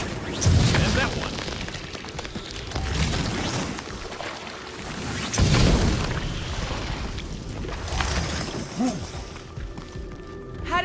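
Repeated booming weapon blasts from Guardians of the Galaxy, fired at ice to melt it, arriving in several loud bursts a few seconds apart beneath character dialogue.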